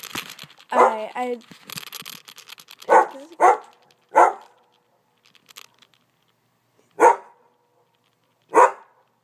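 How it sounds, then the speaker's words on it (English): A pet dog gives several sharp, loud barks spaced a second or more apart in a quiet room, and a person talks briefly at the start. "He hears his echo of his barking."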